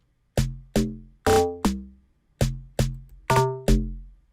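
A synthesized log drum plays a bouncy pattern of eight short, pitched hits, thinner in the bass, each note sharply attacked and quickly fading, with no other sounds.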